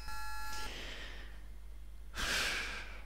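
An athlete breathes in the Track & Field arcade video game: a short electronic tone opens, then a quiet pause, then a single loud, airy breath burst near the end.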